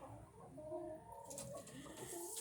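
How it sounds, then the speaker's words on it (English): Chickens inside a barn coop housing about nineteen birds, with soft clucking and cooing calls rising and falling continuously at close range, layered over a steady rustling background. "There are chickens everywhere in here."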